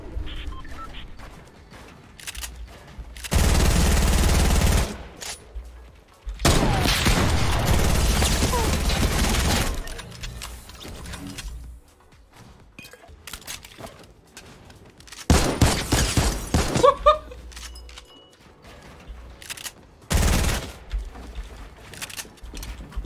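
Infantry rifle fire in a video game arrives in several loud, dense bursts lasting one to three seconds each, separated by quieter gaps with faint game noise.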